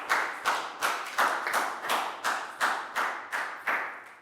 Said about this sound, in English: High five and a big round of applause for Lakgau,